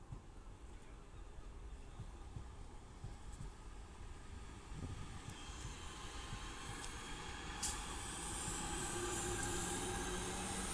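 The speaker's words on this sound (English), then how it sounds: "through will be a Class 323 for Northern, running from Stoke-on-Trent to Manchester Piccadilly." A Northern Class 323 electric multiple unit on the West Coast Main Line at Ardwick, running from Stoke-on-Trent toward Manchester Piccadilly, rumbles past at close range. Its steady, dense roar holds throughout and swells near the end, with high wheel squeal over it.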